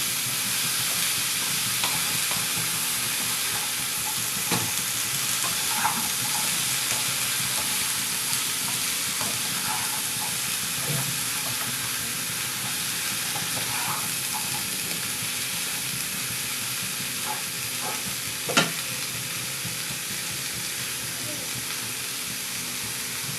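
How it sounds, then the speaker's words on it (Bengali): Mixed vegetables for khichuri fry in a pan with a continuous sizzle and hiss, broken by occasional scrapes and clinks as a utensil stirs them. "এবার এগুলোকে ভালো করে সেদ্ধ করে নিতে হবে, ভাজা ভাজা করে নিতে হবে, যাতে সব সবজিগুলো একটু হালকাভাবে সেদ্ধ হয়ে যায়।"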